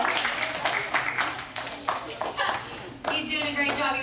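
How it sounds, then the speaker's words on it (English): Audience at a camp show clapping in applause for a backstage conductor, scattered claps close by mixed with voices talking over them. "give Mr. Theo a round of applause for conducting you all backstage."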